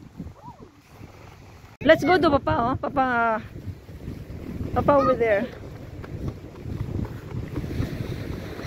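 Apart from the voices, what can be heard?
strong wind blowing outdoors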